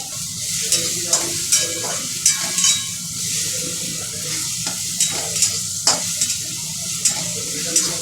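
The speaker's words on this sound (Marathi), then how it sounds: "लसूण मिरची जिरे चांगलं परतून घ्यायचं आहे आपण 2 मिनिटं." Ground garlic, chili and cumin paste sautéing in a pan, a loud steady sizzle with rhythmic scrapes and taps of a spoon against the pan every second or so.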